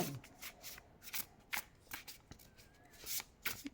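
Tarot cards being shuffled by hand for a reading, with a quick series of crisp riffling and slapping bursts, close and fairly quiet, no speech.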